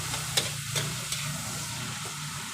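Chopped tomatoes sauté in a pan for a shrimp dish, a close continuous sizzle broken by a few sharp utensil knocks and scrapes, with no talking.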